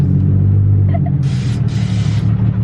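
A twin-turbo Nissan 370Z idles with a deep, steady rumble ahead of a burnout, with brief hissy bursts over the engine drone and people talking nearby.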